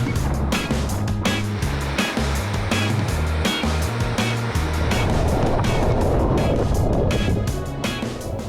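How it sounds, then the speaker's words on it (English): Continuous wash of ocean waves and surf around a sea kayak paddling the Caribbean Sea, with steady broadband water rush, occasional sharp splashes and a low rumbling undertone throughout. "When you get on those waves, it's like some of them can be friendly and some of them are just not so friendly."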